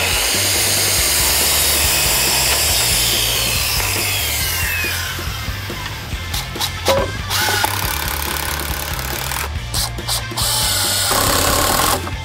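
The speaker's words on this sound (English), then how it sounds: "Grab the palm sander, just work my way around, just cleaning it up." A palm sander smooths a bench built from pallet wood, a steady buzzing drone that weakens midway, then returns with scraping bursts, close and loud.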